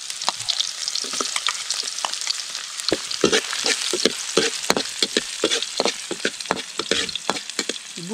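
Ginger and garlic sauté in a pan over a campfire on a mountain at night, giving a steady, loud, close sizzle with dense crackling and frying pops throughout, with no voices.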